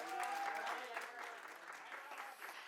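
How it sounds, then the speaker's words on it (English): Audience applause at a Gillette campaign premiere event, a steady wash of clapping heard faintly and at a distance, with some voices mixed in. "One more round of applause."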